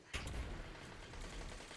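Rapid auto rifle fire from a first-person shooter match bursts out in a dense rattling stream of quick shots, loud and close, with no talking.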